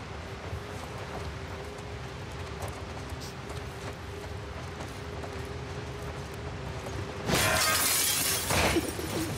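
Glass shatters in The Last of Us Part II, a sudden bright crash that breaks out after a long stretch of steady ambient hum and scattered small noises, then lingers briefly as debris settles.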